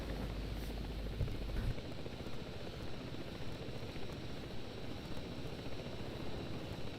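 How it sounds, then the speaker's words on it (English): A helicopter flies in the video game Ghost Recon Breakpoint, giving a steady, fairly faint whirring rotor drone that continues without a break. "Yeah, and it sounds just like regular choppers, so good for stealth."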